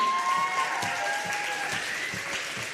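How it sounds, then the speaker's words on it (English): A crowd at a girls' high school basketball game applauds freshman cheerleaders in a gym, steady clapping from many hands running throughout with a sustained tone and occasional thuds mixed in. "you guys need to give them a big round of applause"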